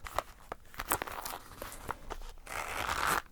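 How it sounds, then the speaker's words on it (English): A zipper on a bag's side pouch pulled in short bursts, then one longer, steady zip near the end, close and fairly quiet. "Got really strong zips."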